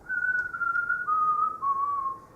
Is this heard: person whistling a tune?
yes